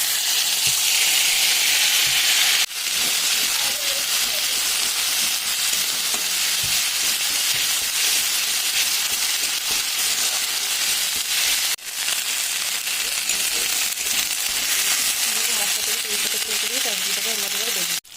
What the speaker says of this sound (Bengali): তেলটা গরম হয়ে গেছে, দিয়ে দিচ্ছি আমাদের আমি জিরে ফোড়ন।